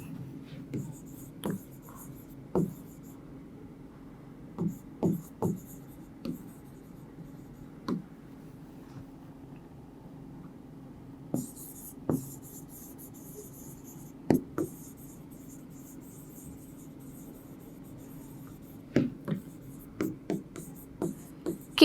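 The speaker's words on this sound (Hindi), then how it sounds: "तो मैकडोनल्ड लिख देते हैं, ठीक है।" Pen writing by hand on paper, heard as a series of short scratchy strokes in irregular bursts, close and fairly quiet, with no talking.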